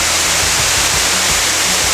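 A nice-sized waterfall in Gros Morne National Park, Newfoundland, roars as a loud, steady, unbroken wash of noise, close by and heard on its own.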